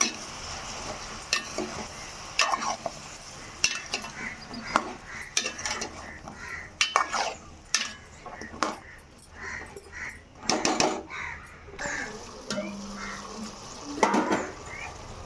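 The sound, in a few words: stirring brinjal frying with onions in a pan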